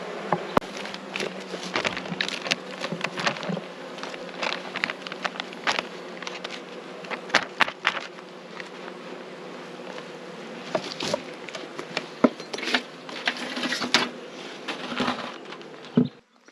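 Honey bees from a rescue hive buzz steadily and close by, a dense droning hum with many individual insects flitting past the listener throughout.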